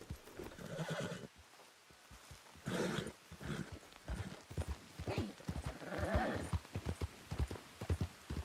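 A Hungarian Half-bred horse in the video game Red Dead Redemption 2 clip-clops steadily along with hooves thudding in rhythm, and it neighs once. A dog barks at moments, and voices talk over the scene.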